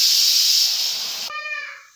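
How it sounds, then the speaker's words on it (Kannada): A pressure cooker whistle blows while dal cooks for sambar: a loud, steady steam hiss that suddenly shifts into a shrill pitched whistle, then fades toward the end. "ಇವಾಗ 1 ವಿಷಲ್ ಬಂದಿದೆ."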